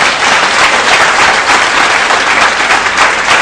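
A church congregation at a French-language Mass for the start of the pastoral year breaks into loud, sustained applause, a dense, even roar of clapping that fills the room.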